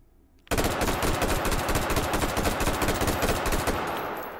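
Fully automatic M16 rifle fire with a muzzle brake in the VR shooter H3VR: after a brief quiet, a loud, close, sustained burst of rapid cracking shots runs continuously to the end.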